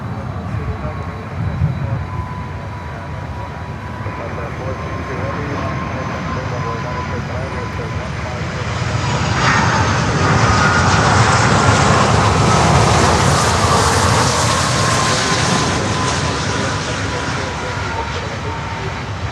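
Swiss airliner from Zurich, usually a Boeing 777, at Miami airport, its jet engines roaring steadily and swelling louder midway as it passes, with a voice talking over the noise.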